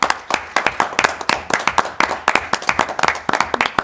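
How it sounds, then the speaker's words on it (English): Applause from a small group at a town council meeting, brisk, uneven clapping by only a few people, close and fairly loud, with distinct individual hand claps throughout. "give them all a big round of applause"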